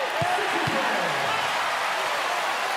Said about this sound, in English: And you can hear that crowd we've been asking for.